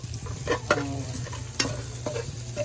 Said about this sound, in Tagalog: nilagay na po ni Jefford yung sibuyas. Bombay